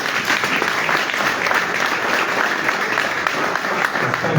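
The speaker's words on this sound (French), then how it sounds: "d'applaudir le MRC." An audience applauding the MRC party at the final of a PDF challenge event, a loud, even round of many people clapping, sustained for a few seconds with faint crowd murmur beneath.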